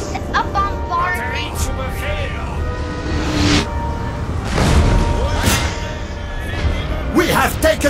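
Artillery bombards in the video game Napoleon: Total War, sounding as a series of dull booms and thuds spaced several seconds apart over a busy battle background.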